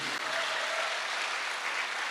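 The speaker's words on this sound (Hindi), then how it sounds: "एक जोरदार तालियां होनी चाहिए।" Audience applause fills a hall at a charity organisation's business event, a dense steady roar of many hands clapping that holds loud and even throughout, with no talk over it.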